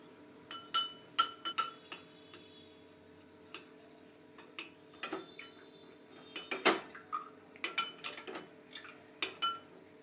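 A spoon stirring salt into water in a glass, giving quiet irregular clinks and taps against the glass in short bursts, some close and sharp, over a near-silent background.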